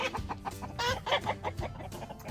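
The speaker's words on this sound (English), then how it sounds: "Oh, my chickens." Backyard garden chickens clucking nearby, a string of short, quiet, irregular clucks and murmurs.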